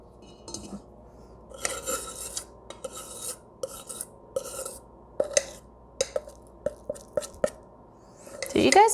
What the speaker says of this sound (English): I can't scrape the bottom of this bowl with the fork.